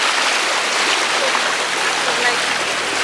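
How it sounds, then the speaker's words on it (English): Fast, strong stream water near Luang Prabang, Laos, rushes in a continuous broadband wash close by, even and unbroken across the short stretch. "The water is quite strong."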